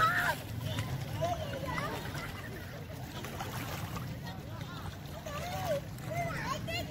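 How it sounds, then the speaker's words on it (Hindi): Small children shout and play at a calm lake beach in a Canadian park, with many overlapping young voices near and far, continuous throughout, over a soft wash of water. "छोटे छोटे बच्चों का शोर।"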